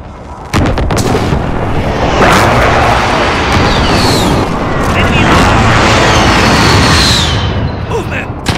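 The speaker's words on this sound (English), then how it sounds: "Be advised, friendly precision airstrike inbound." Precision airstrike explosions in Call of Duty: Modern Warfare: a loud, sustained barrage of heavy booms and rumbling blasts that rolls on for several seconds after a sharp onset.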